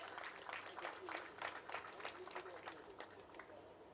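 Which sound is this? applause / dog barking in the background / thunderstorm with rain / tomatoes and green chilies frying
applause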